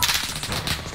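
Sniper shots from the video game Warzone during a 2v3 match: a short, dense run of sharp gunfire cracks, loud and close, with no voices.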